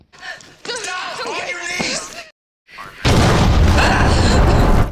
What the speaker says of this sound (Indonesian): tiba-tiba terjadi ledakan kembali